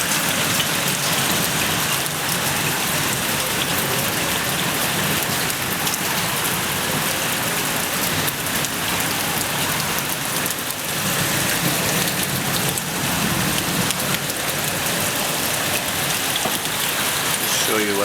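Hailstorm pouring down outside a window over Flemington Racecourse, a dense continuous roar of ice hitting surfaces with steady loudness throughout.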